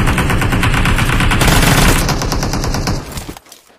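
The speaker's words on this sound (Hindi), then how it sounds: "किसी ने देखा फिर कितनी हजार गोलियां मारनी पड़ी" Sustained rapid machine-gun fire in a shooting video game, loud and close, with a continuous stream of shots that thins out and drops away in the final half second.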